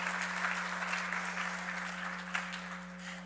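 Applause rises for Mr. Garcia at an online graduation ceremony, a quiet, distant-sounding ripple of clapping over a steady low electrical hum, with no one speaking.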